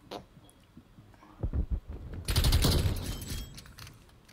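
AK rifle fire in Black Ops Cold War, a few scattered shots followed by a sustained rapid burst of close gunfire that tails off, with quieter game noise before it.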